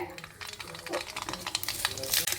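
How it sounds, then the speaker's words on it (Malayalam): Mustard seeds sizzle and crackle in hot oil in a pan, crisp popping bursts growing busier toward the end, with a quick stir alongside. "എണ്ണ നല്ലതുപോലെ ചൂടായി കഴിയുമ്പോൾ അതിൽ ഇവിടെ നല്ലവണ്ണം ചൂടായി കഴിഞ്ഞപ്പോൾ ഞാൻ കുറച്ച് കടുക്"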